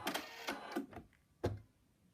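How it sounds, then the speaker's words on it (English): An embroidery machine stitches around an appliqué in quick, faint, mechanical taps and clicks, a few bursts close together and then a lone tap after a brief pause. "Next stitch, it's going to just stitch all around it to secure it"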